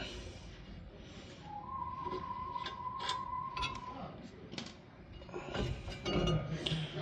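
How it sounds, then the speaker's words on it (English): Metal clinks, creaks and grinding as a caliper mount is worked off the wheel hub of a 2011 Chevy HHR with a seized rotor, close and irregular over a steady background hum. "Caliper mount comes off."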